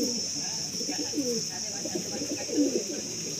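A single male pigeon coos softly in a loft among other pigeons, with low murmuring calls repeating under a steady high insect-like hiss.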